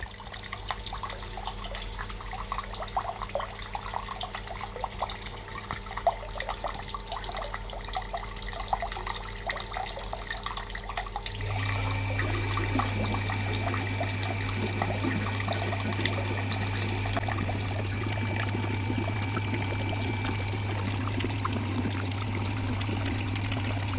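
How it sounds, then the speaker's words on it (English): Water from a hose splashing and trickling into a brewery underback, a steady wet pour with dripping that shifts to a fuller, more even flow partway through. "It is splashing all over the place at the moment"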